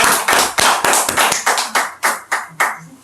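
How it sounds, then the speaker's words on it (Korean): A church congregation claps in unison in a rural village church service, about a dozen sharp, loud, rhythmic claps spaced evenly and slowing slightly toward the end, with no voices over them. "여기까지 인도하신 그 하나님께 영광의 박수 올릴까요?"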